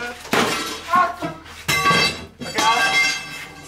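A glass mirror shatters during the wrecking of a shop interior, with three loud, close crashing bursts of breaking glass and scattered clinks in between. Voices can be heard around it.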